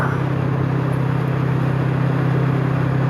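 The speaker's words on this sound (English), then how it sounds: "I'm trying to cut most of that wind noise out" Steady, loud wind rush and low engine drone from a Kawasaki Vulcan motorcycle on an evening ride with the visor down, continuous and unbroken throughout.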